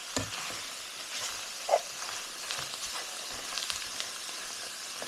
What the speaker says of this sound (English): A good stir, that way it doesn't stick to the bottom.